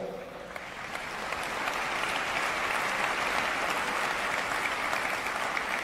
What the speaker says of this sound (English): I'm wary of all these clapping hands